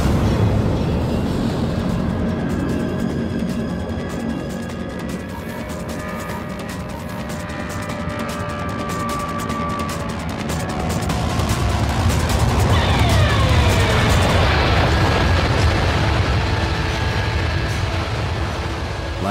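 Propane fuel tanks bursting in an audio drama scene, a loud sustained roar of explosions with crackling bursts and rumbling, dense and close throughout and swelling louder toward the end.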